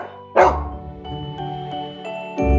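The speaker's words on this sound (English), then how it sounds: "D is for dog." A dog gives a single sharp, close bark, with a second bark starting at the end, over light background music.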